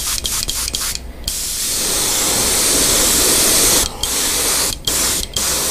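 Black spray paint hisses from an aerosol can in several short bursts, then one long, steady spray, followed by a few more quick bursts up close.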